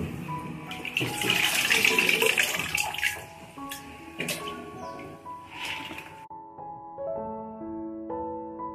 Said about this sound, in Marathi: आपण बटाटे चिप्स धुवून त्याच्यात स्वच्छ पाणी भरून